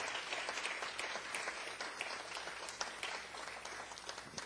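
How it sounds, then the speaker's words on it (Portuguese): Brief burst of congregational applause during a church graduation service, many hands clapping in an even, fairly quiet patter without words over it. "Uma salva de palmas ao Senhor."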